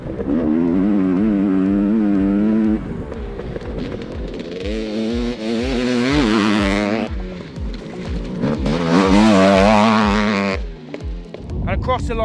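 An automatic 500cc two-stroke dirt bike roars continuously nearby, its engine pitch rising and falling through revs and gear-free acceleration, with a burst of higher wailing toward the end.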